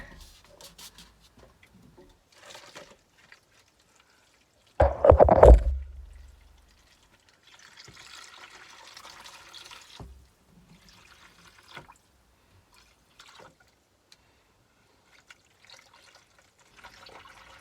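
Water gushes into a bucket for a commercial hot beverage machine, a loud burst of about a second and a half, followed by faint trickling and handling noises.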